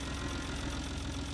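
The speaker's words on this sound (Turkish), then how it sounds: "Saat gibi çalışmıyor mu ya dedemin traktörü?" An old tractor belonging to a grandfather idles in Farming Simulator 22, giving a steady, even low thrum with a regular mechanical pulse, close and unbroken.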